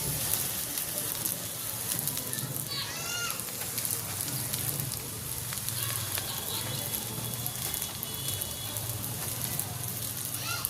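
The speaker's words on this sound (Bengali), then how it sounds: "দিয়ে দিচ্ছি আমি একে একে সবগুলো। এই প্রথম এভাবে ভাজি করতেছি" Pumpkin flower fritters frying in hot oil in a village kitchen, a steady dense sizzle with crackling pops throughout, near and fairly loud, with someone talking intermittently over it.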